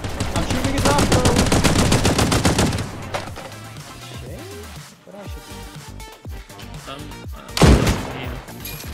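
Rapid automatic gunfire in a shooter video game, with dense continuous shots up front, then scattered game effects and a player talking, and another loud shot burst near the end.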